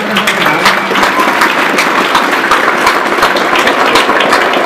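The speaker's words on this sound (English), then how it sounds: "one more round of applause for our candidates today." Sustained applause from a debate audience for candidates in a Utah County Commission Seat A race, dense steady clapping across the whole clip at full loudness.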